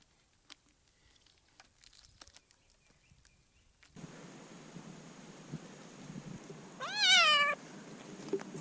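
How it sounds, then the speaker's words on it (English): After several seconds of quiet rustling, a cat gives one loud, drawn-out meow close by near the end, with soft scuffling sounds around it. "This is the funniest cat I've ever seen."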